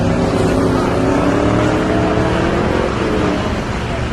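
Stock race car on an oval dirt track roaring past, a loud continuous engine drone with a slight pitch sweep as it goes by, other engine noise around it.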